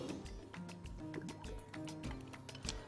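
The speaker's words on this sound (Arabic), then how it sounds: "هجيب الحله كده الاول اسخنها كويس، احط عليها معلقتين زيت" Two spoons of oil go into a heated cooking pot, making faint, close drips and small liquid splashes with light clinks of the spoon.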